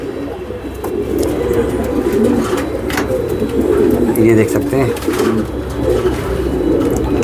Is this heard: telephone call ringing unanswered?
no